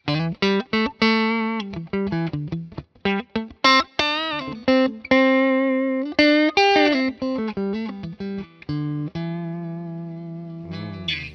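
Clean electric guitar played through the neck pickup of a Stratocaster-style guitar, a warm, glassy tone with quick picked notes and strummed chords, close and steady with no voices.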